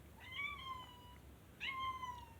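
A house cat meows twice in a quiet room at night, two clear, close calls about a second apart, each a rising-and-falling cry alone over soft background hiss.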